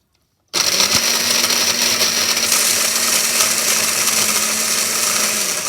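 An electric blender switches on suddenly and chops dried fruit for a tea fruitcake. The motor whirs loud, close and steady the whole time, with a gritty rattle from the fruit and no voices.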